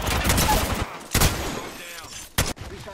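Gunfire in the video game Apex Legends: a dense burst of shots, then two sharp separate bangs with quieter gaps between, loud and close.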